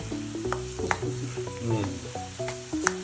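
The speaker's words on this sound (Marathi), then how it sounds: "शेंगदाणे फुटाणे चांगलं तळून घेऊ." Peanuts and roasted chana frying in hot oil for murmura chivda, a steady close sizzle broken by scraping stirs against the pan, with soft background music and no talking.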